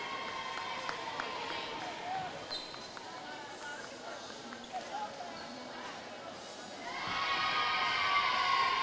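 Crowd murmur fills a school gym before a JV volleyball game between Benton and Belmont, a steady indoor babble with scattered sneaker squeaks and ball thumps, swelling louder near the end.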